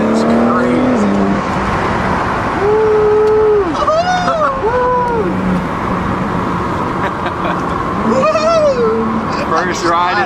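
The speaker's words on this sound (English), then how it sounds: "First ride in the G80." A BMW G80 pulls hard from inside the cabin, its engine a loud, steady roar that rises in pitch as it accelerates, while passengers talk and shout excitedly over it.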